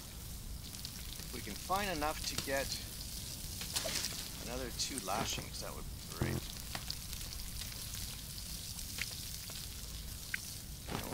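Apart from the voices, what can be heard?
fire crackling and water dripping in the video game Stranded Deep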